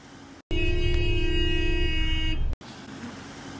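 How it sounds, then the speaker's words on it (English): A few vehicles move along a quiet city street. A steady horn-like tone sounds for about two seconds over a low rumble of traffic, then cuts off and the background noise returns. "We have a few vehicles moving around."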